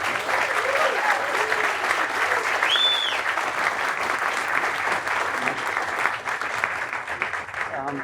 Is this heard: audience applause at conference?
yes